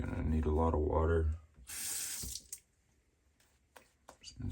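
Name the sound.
water running from a tap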